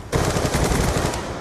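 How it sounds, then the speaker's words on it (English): The Death Machine minigun in Call of Duty: Black Ops II, during a Team Deathmatch on the Uplink map, breaks into a sudden loud stream of rapid continuous fire that lasts over a second. "Friendly death machine spinning up."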